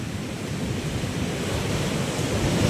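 Steady rushing sea surf washes in continuously over a beach hut, a broad hiss of water with wind buffeting the microphone.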